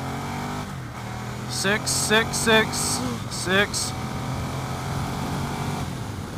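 A 2015 Ducati Diavel Carbon motorcycle engine idling steadily, then rising and falling through several quick rev blips in the middle before settling back to idle, with someone speaking briefly.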